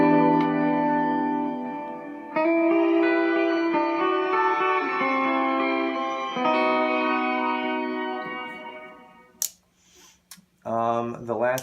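Sustained guitar chords ring out wrapped in a lush, shimmering reverb with octave-up sparkle, fading into a few brief clicks and a short strummed tail.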